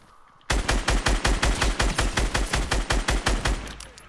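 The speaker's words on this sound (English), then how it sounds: "Who that guy shooting at me?" Gunfire in the video game Fortnite: a loud, fast, regular burst of about fifteen evenly spaced shots that starts abruptly and continues steadily to the end.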